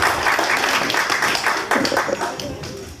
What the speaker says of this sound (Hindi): उनका भी ज़ोरदार तालियों से इस्तक़बाल करें।